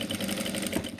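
Sewing machine with a presser foot stitching a narrow fabric strip, backstitching in reverse; a steady, close mechanical hum running continuously without pause.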